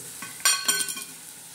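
Tomatoes, brinjal and potatoes hit a hot pan and fry with a sudden burst of sizzling, a couple of sharp crackling bursts that quickly settle into a softer hiss, close and loud.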